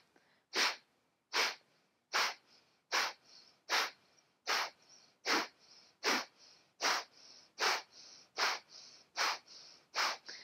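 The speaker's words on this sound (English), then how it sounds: "Just breathe out those sharp exhales." Sharp, forceful breath-of-fire exhales through the nose during a morning yoga session, about fourteen evenly spaced puffs at a steady rhythm, close and fairly loud with no talking.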